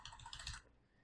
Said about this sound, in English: It's just kind of a noisy, non-mechanical keyboard.